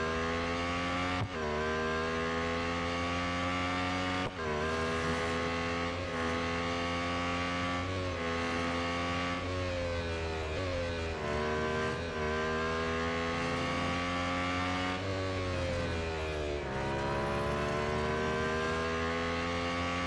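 Lotus Emira GT4 race car engine in Real Racing 3, a loud sustained drone with repeated rising revs and sharp drops at gear changes, steady throughout with no talking.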